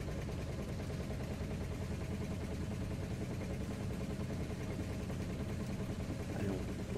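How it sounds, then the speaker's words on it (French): A fishing boat's engine drones steadily and close by at sea, a continuous low rumble with no break or shutdown, and no voices. "Allez, on va couper le moteur"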